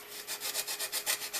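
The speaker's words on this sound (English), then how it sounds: "I'm going to use that custom sanding stick and just even out those edges a little" Custom sanding stick smoothing the edges of a cut hole during a supercap build, a quick series of about ten rhythmic rasping back-and-forth strokes, close and fairly quiet, with no talking.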